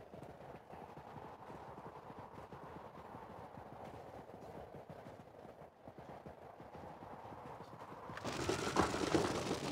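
Horse hooves clip-clop in a steady rhythm as a rider moves through a medieval video game, quiet and continuous, with a louder burst of game noise near the end.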